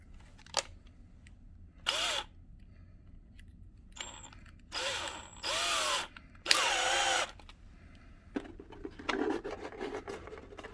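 A small drill bores a pilot hole in a tooth mask in several short, high whirring bursts separated by quiet pauses, close and fairly faint.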